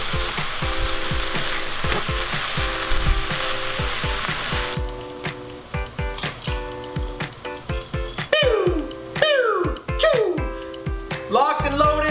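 Kimchi and cauliflower rice fry in a pan with a dense, close sizzle that thins after a few seconds, leaving scattered crackles and clattering stirs from a utensil.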